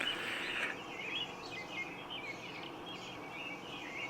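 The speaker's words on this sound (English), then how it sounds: "listen to these birds. They're busy." Several birds chirping and trilling at sunrise at a moderate distance, overlapping calls throughout with a soft background hiss.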